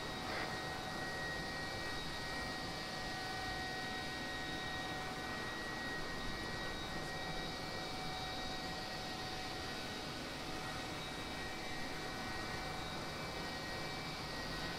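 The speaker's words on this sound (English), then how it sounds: "Can one of you get your drones to fly over here?" A steady droning engine hum with a high whine continues without a break, like a drone aircraft flying overhead at moderate distance, in the video game ArmA 3.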